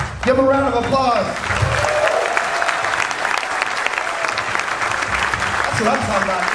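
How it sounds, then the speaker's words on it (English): A room full of people bursts into steady applause after a shouted cheer, clapping loud and close for several seconds, with voices shouting over the start and talking again at the end. "Give a round of applause."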